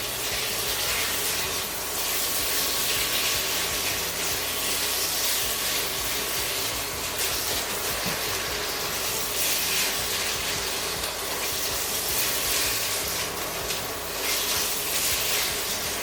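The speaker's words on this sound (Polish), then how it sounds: "Teraz gdy nasze mięso już się troszeczkę podsmażyło" Minced meat sizzles steadily in a frying pan as it browns, a continuous close hiss with no break over the whole stretch and no voices.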